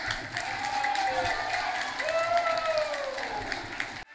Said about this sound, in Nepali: जोरदार तालीको अपेक्षा मैले गरिरहेको छु।